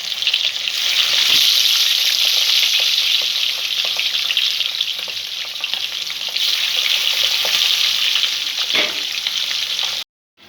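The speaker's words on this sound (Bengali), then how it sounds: "আপনারা ঢাকা দিয়েও মাছটা ভাজতে পারি।" Tangra catfish frying in oil in a pan over a low gas flame, a steady loud hiss and crackle with scattered pops, continuous for about ten seconds before cutting off.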